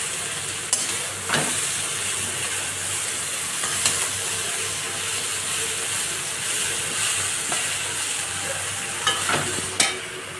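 Chickpeas frying with spices, green chillies and chui in a pan, a continuous low sizzle broken by occasional sharp scrapes and clicks of stirring.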